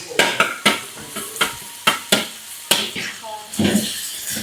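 Minced garlic frying in a pan with smoked beef and green chili, stirred by a utensil in repeated sharp scrapes and clinks over a soft sizzle, close up.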